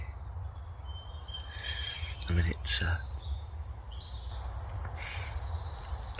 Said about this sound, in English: Just hear the birds.